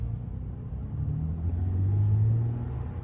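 BMW E90 with a manual gearbox revving gently in first gear, a low, steady engine rumble that swells slightly as the revs rise near the end.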